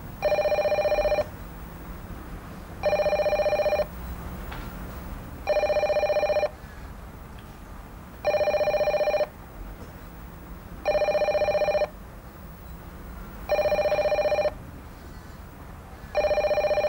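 A telephone bell rings in regular bursts, about seven loud rings spaced evenly with short pauses between them, heard alone in an indoor setting.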